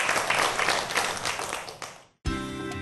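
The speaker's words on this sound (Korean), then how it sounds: "오늘 이렇게 재미있는 강연해 주시고 여러분들께 좋은 말씀해 주신 한재근 박사님께 큰 박수 부탁드리겠습니다." Lecture audience applauding after a science talk about robots, a dense burst of many hands clapping that fades out, then a short pause before a steady tone starts up.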